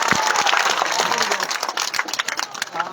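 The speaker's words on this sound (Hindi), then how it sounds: "सभी तालियां से उनका स्वागत करें।" Crowd applause at an outdoor political rally in a village, a burst of clapping that thins into scattered claps toward the end, with voices over the loudspeaker audible beneath.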